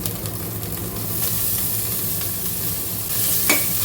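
Fenugreek leaves frying in a pan with horse gram pulao ingredients, producing a continuous close hiss and sizzle with a few light stirring scrapes.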